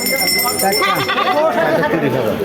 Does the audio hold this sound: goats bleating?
yes